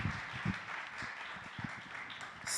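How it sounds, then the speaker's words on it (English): Applause rises for the teams at an entrepreneurship competition, quiet and distant clapping spread through the room with a few low thumps and murmurs mixed in. "Round of applause for them"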